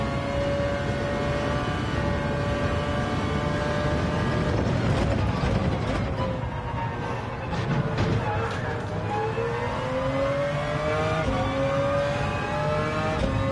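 A race car engine in Gran Turismo 7 played in PSVR2, a continuous droning engine note rising and falling through gear changes and revving, steady and loud with little talk.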